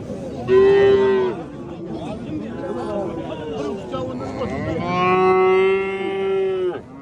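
Young bull calves lowing at a livestock market in Kattaqo'rg'on, two long loud moos at the start and end with more lowing between, over a background of crowd chatter and nearby talk.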